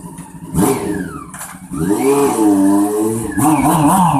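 A Honda CB Super Four café racer motorcycle engine revs up and down in several loud bursts, pitch rising and falling with each blip of the throttle, close by.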